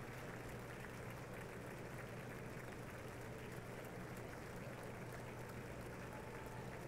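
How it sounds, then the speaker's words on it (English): Continuous applause from a large crowd at the 2024 State of the Union address, dense and even, sustained without a break from start to finish. "That's the First Lady to applause."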